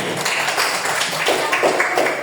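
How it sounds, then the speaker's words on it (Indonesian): Students in a microteaching classroom clap together in a dense, steady patter that stays fairly close and even for a couple of seconds. "Tepuk tangan untuk semuanya"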